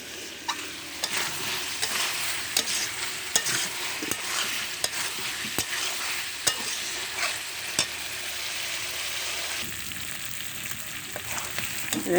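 Goat meat and potatoes sautéed in a pan, a continuous close frying sizzle broken by regular sharp scrapes and knocks of the spoon as the pieces are stirred over the whole stretch.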